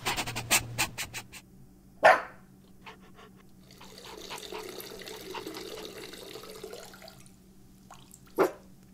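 Cartoonish dog sounds from the video game Mitoza: a quick run of yaps at the start, then a sharp bark, a soft wet shuffling bed, and another sudden bark near the end.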